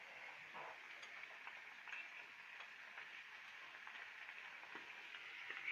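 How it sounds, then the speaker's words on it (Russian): Breadcrumb-coated pike fillets frying in a pan with Kazakh-style roasted grain crumbs, a faint, steady sizzle with light crackles throughout and no speech. "Жарим щуку."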